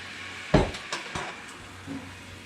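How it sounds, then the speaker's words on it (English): A utensil stirs melted butter, maple syrup and cinnamon in a pan, making a sharp knock followed by a few lighter taps and scrapes against the metal, with faint sizzling beneath. "give it a nice little stir around"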